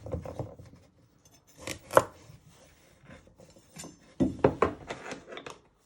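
Carrot ends being chopped with a sharp knife on a cutting board, a handful of crisp, separate thuds in an uneven rhythm, close and clear with faint kitchen handling between the cuts.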